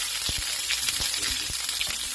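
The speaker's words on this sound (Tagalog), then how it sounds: "nag-gisa po tayo ng sibuyas" Chopped onions sauté in a hot pan with a steady, dense sizzle and scattered small pops and crackles throughout, close and continuous with no talking.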